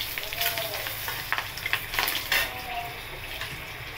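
Green chili and bay leaf dropped into hot oil in a pan after frying eggs for egg curry give a steady, close crackling sizzle with scattered pops and spatters. It carries on continuously, with no talking.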